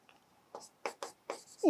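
Quick marker or chalk strokes of math notation being written on a board in a lesson, four or five short scratchy bursts in a brisk rhythm, close and clear.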